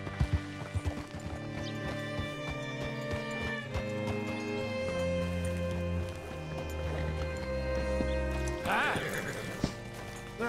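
Horse hooves clip-clop at a walking pace in Red Dead Redemption 2, moderately loud among game ambience and a soft musical tone, with a brief higher vocal sound near the end.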